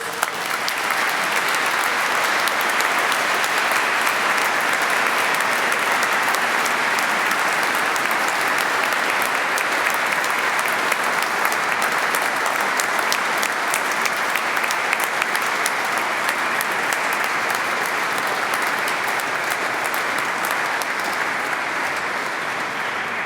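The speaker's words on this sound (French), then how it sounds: "je voudrais vous demander de les applaudir pour les remercier." A church congregation gives long, sustained applause for priests at a cardinal's Mass, a dense, even roar of many hands clapping that stays loud and unbroken throughout.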